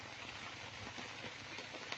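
Steady rain falling in a rural Thai setting, a dense, even hiss of drops spread across the whole clip, fairly faint and continuous with no talking over it.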